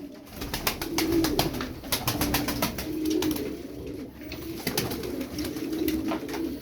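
A crested tumbler pigeon with a mirror tail and smoky plumage coos in repeated low, rolling phrases, close by, punctuated by sharp clicking or rustling bursts, with no speech.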